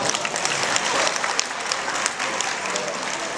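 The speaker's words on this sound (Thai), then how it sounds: "ขอเสียงปรบมือหน่อยครับ" Loud, full applause from an audience after a presentation, a thick continuous roar of many hands clapping with a few sharper claps standing out.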